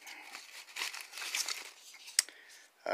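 Paper being cut by a Wartech PWT260BK, heard as close crinkling and tearing rustles over a few seconds, with a sharp crisp snap near the end.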